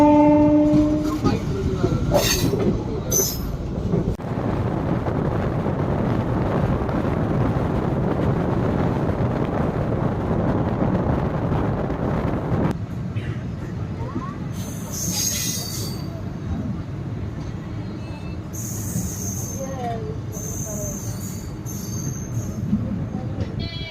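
Chennai Egmore–Puducherry passenger train pulling into Vikravandi station: loud continuous rumble of rolling wagons with metallic wheel squeal and a horn early on, the roar dropping off midway to quieter clatter and scattered high squeals as it slows.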